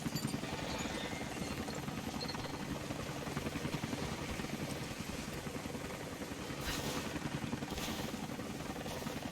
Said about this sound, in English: There's a helicopter flying around.